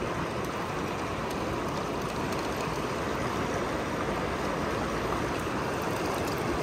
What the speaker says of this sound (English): Yes, the shark squirts some water.